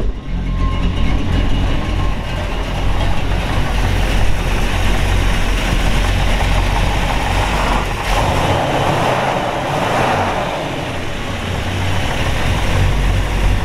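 The 348 Tri-Power V8 of a 1958 Chevrolet Impala runs steadily at idle through dual exhaust, a continuous deep rumble with no talking.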